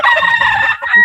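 A rooster crows loudly and close by in a hobby farm barnyard, one sustained cock-a-doodle-doo call ending in a short rising tail.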